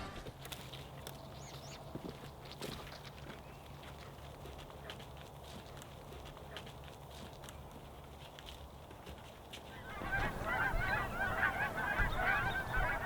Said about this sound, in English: More geese were coming in for a landing